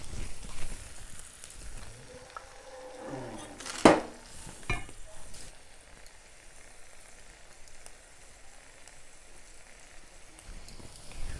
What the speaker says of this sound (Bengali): এখন আমি মশলাগুলোকে টমেটোর সঙ্গে ভালো করে কষিয়ে নেব